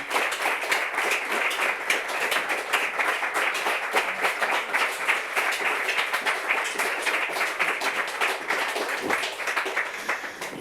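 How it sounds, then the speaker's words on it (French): A French TV studio audience claps steadily and densely, a close, continuous wash of applause that holds without talk for about ten seconds before easing slightly at the end. "Bien sûr, sous vos applaudissements"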